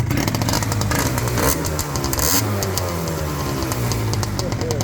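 A 1990s Kawasaki Stella motorcycle engine revs loudly up close, rising and falling in bursts with a rough mechanical clatter.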